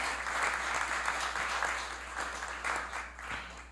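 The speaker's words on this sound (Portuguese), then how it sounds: "Uma salva de palmas." Steady applause from the audience during a municipal council plenary session, many hands clapping continuously for several seconds over a low constant hum.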